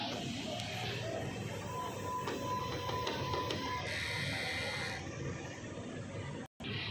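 DTF printer running a print head cleaning cycle: steady mechanical whirring and pumping hum with faint clicks, shifting pitch midway and briefly cutting out near the end, heard alone without speech.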